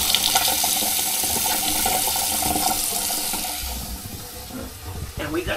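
Water rushes from a newly installed sink faucet in a steady hissing stream, close and fairly loud, then thins and tapers off near the end, with no one speaking over it.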